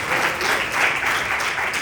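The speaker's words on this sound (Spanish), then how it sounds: "Regálame una ofrenda de palmas al Señor." Church congregation breaks into brief, full applause during a Bible study service, a dense wash of clapping from many hands.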